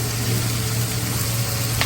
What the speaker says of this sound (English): This looks very sizzling, and then even the sizzling sounds